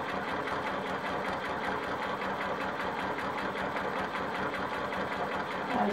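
A sewing machine runs steadily, stitching a ribbon candy pattern, with a continuous, fairly loud mechanical whir and a rapid rhythmic needle chatter and no pauses.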